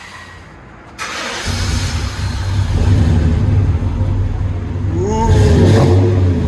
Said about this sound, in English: it's a FLOWMASTER Super 50. So we'll let you guys hear it in a second.